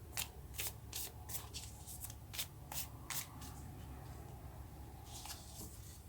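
Tarot-style playing cards shuffled in a quick run of crisp riffling bursts, then softer rustling as a card is drawn, close and fairly quiet with no talk.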